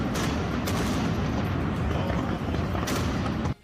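A dense, roaring wash of booming blasts and crackling bangs during a street protest with petrol bombs, loud and continuous, with a couple of sharper bursts standing out near the end.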